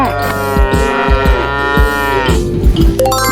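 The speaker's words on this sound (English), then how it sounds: "4 cows" A long, loud cow moo rings out over a steady thumping musical beat, up close and clear.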